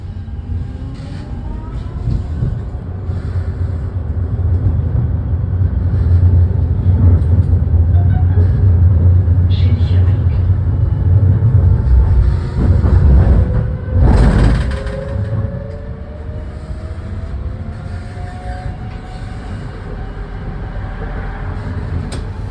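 Inside a Munich interurban tram on the move, a continuous loud low rumble of motors and wheels on rails fills the cabin. A brief louder clatter mid-ride rises and then eases back to the steady running drone.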